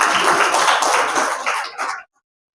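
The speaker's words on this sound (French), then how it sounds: "Ouais, vous pouvez l'applaudir." Audience applause at a Malian diaspora delegation event on migrant reintegration, a dense, steady clatter of many hands that holds for about two seconds and then stops abruptly.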